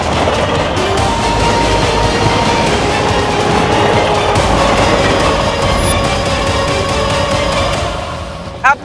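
A train running along railway tracks, a loud, continuous rumbling roar with rhythmic clatter that holds steady before easing off, ending with a short sharp burst.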